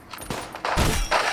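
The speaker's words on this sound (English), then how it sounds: "Can you hear the gunshots? Because they make noises" Gunfire in the WWI-era video game Conscript, a few loud, close bursts of shots and booms in quick succession over about a second.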